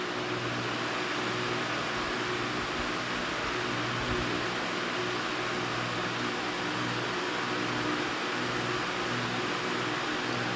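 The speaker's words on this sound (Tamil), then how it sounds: "அந்த ஃபேன் ஓடுற சவுண்டு தான் வேறு எந்த சவுண்டும் கிடையாது" An electric fan runs steadily in a home kitchen while egg kothu chapathi is cooked, giving a constant airy whir with a low hum. The level stays even throughout, and no other sound stands out.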